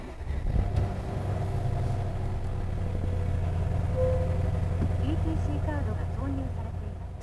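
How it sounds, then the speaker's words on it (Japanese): A 2016 Mercedes-Maybach S550 4MATIC sedan's engine starts and settles into a smooth, low steady idle hum, with faint tonal chimes and beeps appearing near the end. "ではエンジンを始動します。"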